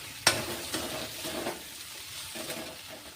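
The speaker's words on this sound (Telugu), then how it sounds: "మధ్య మధ్యలో ఈ విధంగా కలుపుతూ ఉండండి, లేదంటే అడుగంటిపోతుంది అనమాట." Aloo curry stirred in a pan, with a sharp scrape at the start and then steady frying sizzle, occasional soft utensil strokes, moderately near.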